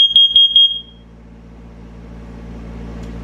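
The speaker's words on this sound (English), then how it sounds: "Testing carbon monoxide." A sharp, high-pitched carbon monoxide alarm test beeps four times in quick succession, then cuts off, leaving a low background hum.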